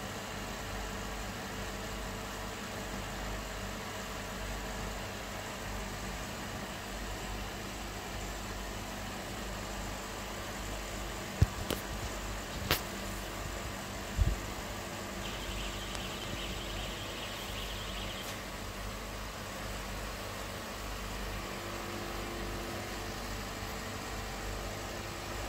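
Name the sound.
farm machine running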